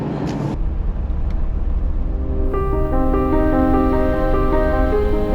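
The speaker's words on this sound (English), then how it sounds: "There's a lot of traffic and it's very noisy here." Loud, constant roar of road traffic close by in upstate New York in winter, with a droning engine hum rising partway through as a heavy vehicle passes.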